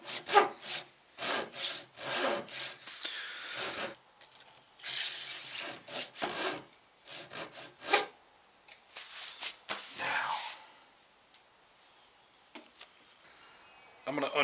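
Hand saw cutting wood for a guitar neck pocket, close rhythmic back-and-forth strokes in bursts separated by short pauses, with a few quieter strokes toward the end.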